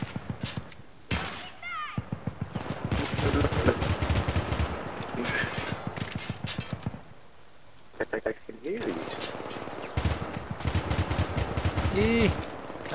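Rapid gunfire bursts from the video game Syndicate crackle almost continuously, dense and loud, with a player's voice talking over the shooting in places.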